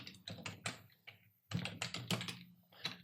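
Someone types quickly on a computer keyboard while working on a document in Word 2019: close, crisp key clicks in irregular bursts separated by short pauses.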